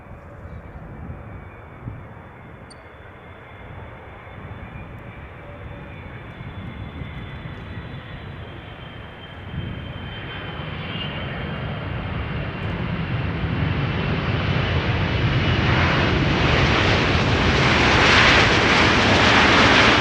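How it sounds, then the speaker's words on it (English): KLM Boeing 777-300 airliner arriving at Amsterdam Schiphol, its engine roar swelling steadily from a distant rumble to a loud, broad near pass over about twenty seconds, with no talk. "This is KLM Flight 622 arriving from Atlanta, Georgia."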